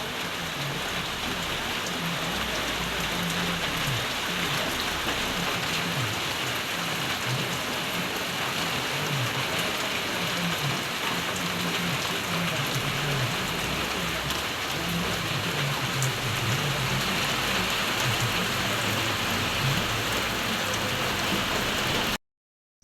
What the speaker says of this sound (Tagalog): Kusog kayong ulan guys. Grabe ka kusog sa ulan.